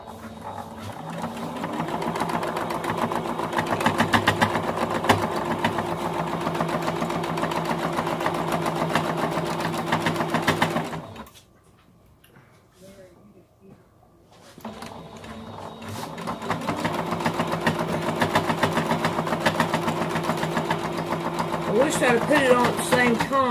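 Domestic sewing machine running a straight stitch across a drawstring bag, a steady close mechanical whir that runs continuously, pauses briefly for a few seconds, then resumes at the same pace.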